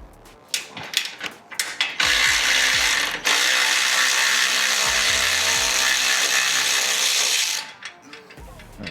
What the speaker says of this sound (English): might as well loosen up this clamp in between where the cross member is, right there